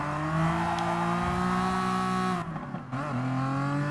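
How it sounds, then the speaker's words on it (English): A TVR Tuscan Speed 6 races in Gran Turismo Sport, its engine holding a loud, steady high-revving note before a brief dip around a shift or lift, then climbing again, with no voices. "Look at that TVR go."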